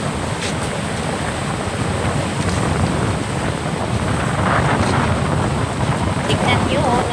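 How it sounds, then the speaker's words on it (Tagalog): Rough sea churns in stormy weather at night after heavy rain and wind, a continuous loud wash of waves and gusty wind noise buffeting the microphone, with a person speaking over it. "ano yung dagat, nagwawala yung dagat."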